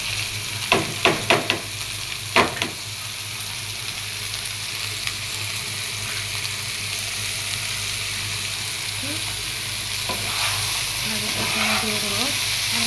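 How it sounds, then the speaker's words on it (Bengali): Bitter gourd (karela) bhaji frying in a pan, a steady broadband sizzle throughout with a few sharp utensil clinks and stirring knocks early on, close and fairly loud, with no talk. "আর এখানে করলা ভাজি নিচে দিয়ে দিলাম।"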